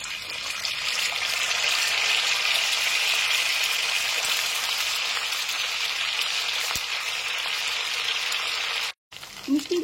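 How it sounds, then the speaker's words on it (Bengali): Semolina gulab jamun sweets deep-fry in plenty of hot white oil in a wok, giving a steady, loud hiss and fizz of bubbling with a brief cut near the end. "মিষ্টিগুলো ভাজার জন্য একটা কড়াইতে দিয়ে দিয়েছি পর্যাপ্ত পরিমাণে সাদা তেল"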